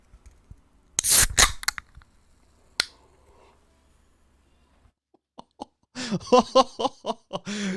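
Pop-top cans cracked open one after another in a loud cluster of sharp snaps and fizzing pops, then another single pop, followed by a burst of further quick pops and hisses near the end.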